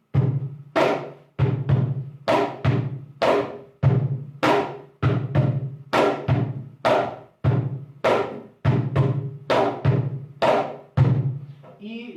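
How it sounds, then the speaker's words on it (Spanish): Peruvian cajón playing the modern landó base rhythm: a steady, repeating cycle of deep bass thumps and sharp high slaps, loud and close, with no voices. "Y después vimos la base del landó, que mucha gente le llama base del landó moderno,"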